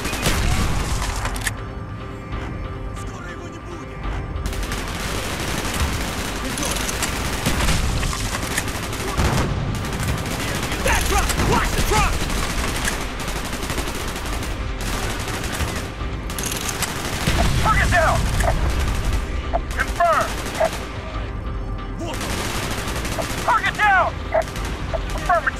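Combat in the video game Call of Duty: Black Ops, with sustained heavy automatic gunfire, fusillades and booms of explosions running almost nonstop, loud and close, and characters' voices shouting over the battle.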